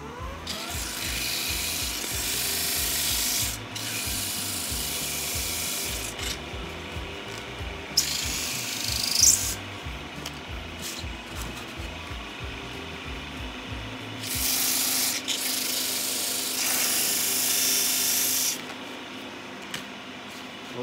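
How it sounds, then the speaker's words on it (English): Finish sanding of a small wooden piece, a light polishing pass: steady scratchy rubbing strokes in bursts with short pauses, close and moderately loud, with no talking. "So let's do a little finished sanding here."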